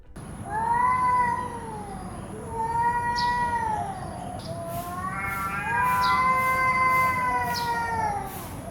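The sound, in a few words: male cats meowing and growling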